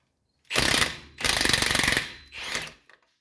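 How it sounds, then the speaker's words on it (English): A pneumatic impact wrench loosens a tie rod bolt under a 2005 Ford Explorer during suspension work. It fires in three close, loud bursts of rapid hammering, the middle one longest, with no voices. "we're just going to go ahead and impact the bolt under there."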